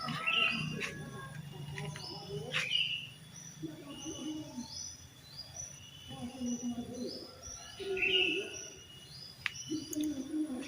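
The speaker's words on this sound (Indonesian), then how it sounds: "Suara burung, suara aduh masih ada teman-teman." Several birds sing and chirp in short repeated phrases, some near and some farther off, over a faint insect hum, in a rural Indonesian village.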